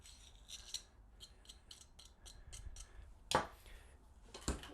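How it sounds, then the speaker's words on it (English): A small wire brush scrubs a warm golf wedge hosel in short, rapid rasping strokes, close and fairly quiet, with a couple of sharper scraping bursts near the end. "And a little wire brush first."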